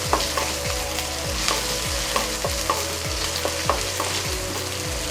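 Ginger garlic paste frying in a pan with green chilies for coriander cashew pulao, a steady close sizzle broken by regular clinks and scrapes of a spoon stirring, with no voices.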